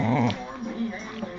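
A dog whimpers and growls in a short, close burst at the start, then fainter whines follow, with a person speaking over it indoors.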